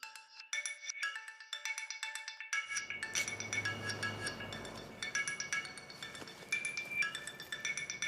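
A phone ringtone plays as a bright, repeating electronic tune with chiming, glassy notes. Steady background noise joins partway through, and the ringing goes on for several seconds with no talk.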